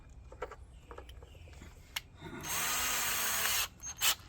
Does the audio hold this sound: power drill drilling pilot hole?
yes